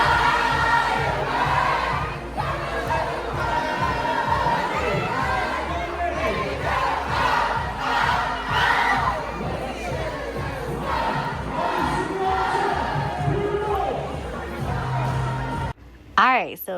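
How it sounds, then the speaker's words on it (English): A crowd at a 4th of July party on a cruise ship sings along loudly, many voices blending with shouts and cheers in a continuous, lively din that ends abruptly. "There were songs to sing along, people having fun."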